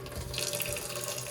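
Water rushes steadily out of a cabin's hot and cold plumbing lines as they are drained for winterization, a continuous close, even gush with no pauses.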